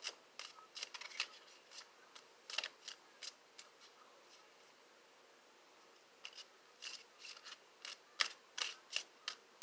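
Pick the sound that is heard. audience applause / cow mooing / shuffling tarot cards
shuffling tarot cards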